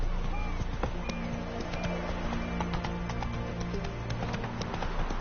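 Roach, the horse from The Witcher, trots along with steady, evenly spaced clip-clopping hooves, close and clear over a low ambient drone, continuing throughout.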